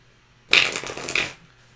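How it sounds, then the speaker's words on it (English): A deck of tarot cards is reshuffled in one quick, close riffling burst of just under a second, heard alone. "I'm going to reshuffle these cards because I have a lot of cards out of the deck."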